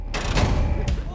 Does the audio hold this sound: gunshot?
yes